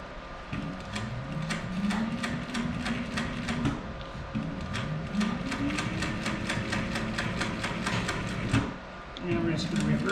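A Techsew 1660 sewing machine runs steadily, its needle stitching through fabric in a fast, even mechanical patter that holds across the clip, with a brief dip near the end before resuming.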